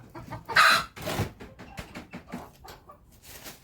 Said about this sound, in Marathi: एक कोंबड्या बघा आमच्या घरात नुसतात कोंबड्याच कोंबड्या